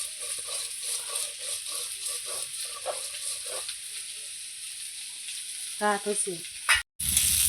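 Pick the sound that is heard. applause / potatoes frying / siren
potatoes frying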